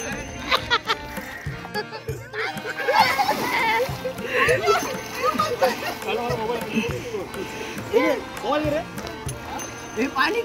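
People splash and play in the water at Usgaon waterfall, with repeated splashes and splatter mixed among lively voices of children and adults talking and calling nearby.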